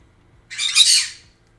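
A pet bird lets out a single loud, harsh squawk lasting about half a second, close to the microphone in a quiet indoor room, with no talking over it.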